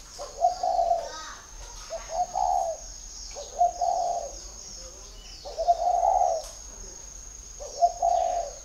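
A spotted dove coos in a series of repeated phrases, each a short run of soft, hollow notes with pauses between them, close and clear over a faint steady high whine.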